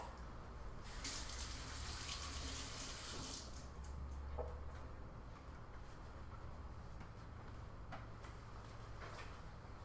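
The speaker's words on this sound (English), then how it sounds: "I'm going to give my hands a rinse real quick" Hands being rinsed under a running kitchen tap while making a vegan fruit pizza: a steady, soft stream of water splashing in a sink, with brief brighter splashes early on and no talk.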